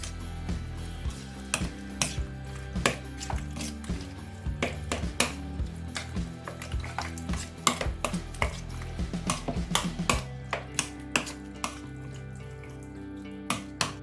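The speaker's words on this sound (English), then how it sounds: "Mix all this." Chana chaat with lemon is stirred in a bowl, producing many quick, close clicks and taps of a spoon in a busy, irregular rhythm over a low steady hum, with no talk.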